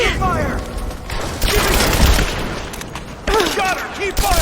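Gunfire and bursts in Rise of the Tomb Raider, loud and continuous across the clip with mechanical clatter, mixed under shouted voices of game characters.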